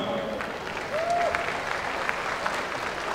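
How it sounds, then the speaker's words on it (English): Crowd applause at an amateur fight event rolls on steadily as a diffuse wash of clapping from a large room, moderately loud, with a brief whistle-like tone rising above it. "Once again, a round of applause for our amateur fighters this evening."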